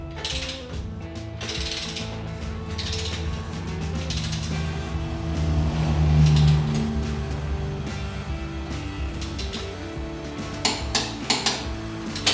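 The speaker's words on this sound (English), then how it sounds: "let's go ahead and torque our axle nut to 65 foot-pounds" A torque wrench tightens the axle nut on a Harley-Davidson motorcycle, with repeated close ratcheting clicks and metallic clinks from the tool and parts.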